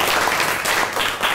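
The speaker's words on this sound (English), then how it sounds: "Give a big clap." Brief burst of clapping from a primary school class during an English lesson, a dense, fairly loud patter of many hands at close range, lasting only a moment.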